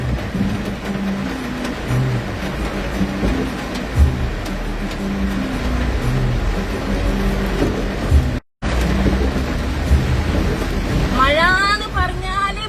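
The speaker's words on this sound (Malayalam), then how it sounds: "മഴയുടെ സൗണ്ടെല്ലാം കേൾക്കുന്നുണ്ടാ?" Heavy rain falls while driving in a car, making a dense, steady roar of water and road noise that drops out briefly near the middle, with a few brighter sounds near the end.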